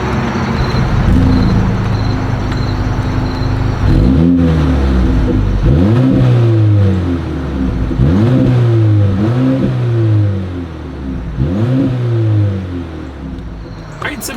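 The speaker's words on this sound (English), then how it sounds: "As always, here is that exhaust clip." A 2026 Mercedes-Benz GLA 250's exhaust heard up close as the engine is revved repeatedly, about five rising-and-falling blips over a steady idle, loud and clear with no talk.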